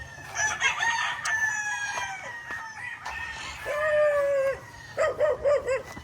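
Roosters crow repeatedly, several drawn-out calls overlapping and following one another, fairly close outdoors at a farm among papaya trees, with no talking.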